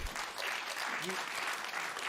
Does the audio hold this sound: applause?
yes